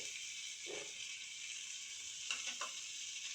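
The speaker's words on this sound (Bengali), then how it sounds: "ভালো করে একটু কষে নিয়ে আলুটা ভালো করে কষে নিয়ে এর মধ্যে ভাজা সজনে ফুলগুলো আমি দিয়ে দিচ্ছি" Drumstick flowers fry with potato and mustard paste in a pan, giving a faint, steady sizzling hiss broken by a few soft stirring scrapes.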